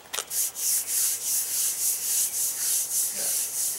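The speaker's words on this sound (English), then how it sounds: "So now the polishing begins." Rhythmic abrasive rubbing of a polishing pad over a concrete countertop, steady strokes repeating about twice a second, close and moderately loud with no talk.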